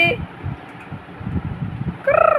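A voice imitates a bird call near the end, a short wavering warble with repeated pulses, following quiet background noise and faint murmuring.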